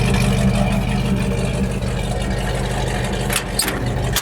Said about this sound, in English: Nice sounding flowing exhaust, a nice ring system.